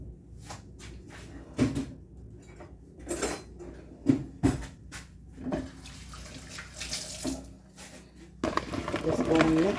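Chopped onion and chayote are stirred in a pot, with intermittent scraping and clinking of a utensil against cookware, moderately close, while a person talks throughout.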